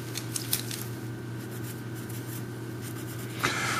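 A marker squeaks and scratches across a board in short strokes while a math problem is written out. The strokes are soft and close against a steady low background hum.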